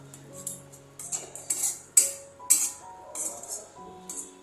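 A spatula stirs kadai masala with paneer in a wok, making a series of short metallic clinks and scrapes in an uneven rhythm, close and fairly quiet.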